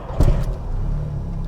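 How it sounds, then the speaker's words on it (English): A 20V turbo engine in a VW MK1 Caddy fires up with a short sharp burst, then settles into a steady low rumbling idle, close and loud, with no voices. "fires up perfectly, just like a brand new car"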